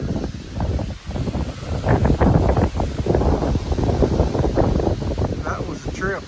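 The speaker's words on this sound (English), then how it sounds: "That had to be a 60-mile-an-hour gust" Strong, steady wind roars and buffets the microphone on an Appalachian Trail mountainside in Virginia, a loud continuous rumble with gusty surges, while someone talks through it.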